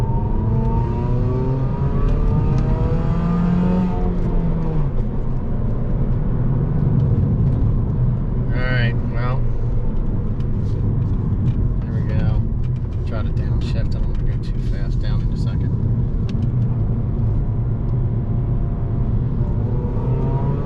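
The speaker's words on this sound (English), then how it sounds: "what it sounds like with just the MPX header on the car" A Dodge Dart fitted with an MPX header revs in second gear, its loud engine note rising and falling continuously from inside the car while someone talks over it.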